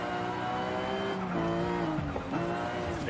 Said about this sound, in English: That turbo spine, or turbo spool, blow off valve.